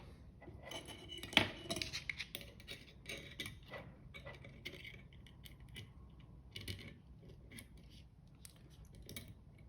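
Small brass nut threaded onto a stud on the parallel motion links of a Stuart model beam engine, heard as light metallic clicks and taps with a sharp clink early on, close and fairly quiet, with faint handling noise.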